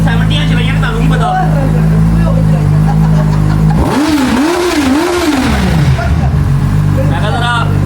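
Loud motorbike engine, not a superbike, revving hard in a few rising and falling surges over a steady idle drone, with people talking throughout.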